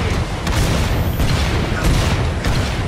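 A grenade blows up in Killing Floor 2, a dense rumbling boom amid continuous loud game noise and scattered blasts, with no talk over it.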